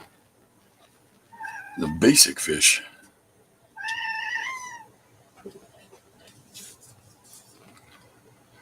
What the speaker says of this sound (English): So the meowing in the background, if you can hear that